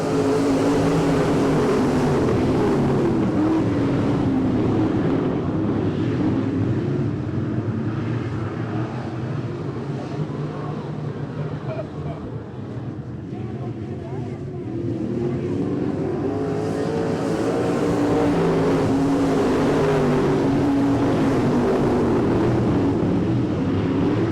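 Late model race cars at I-37 Speedway accelerate out of turn 4, a loud continuous engine roar that dips briefly and swells again as the pack passes, with an announcer talking over it.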